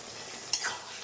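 A small spoonful of ghee hits a finished bottle gourd and shrimp curry, giving one brief, bright sizzle that quickly fades, close and alone.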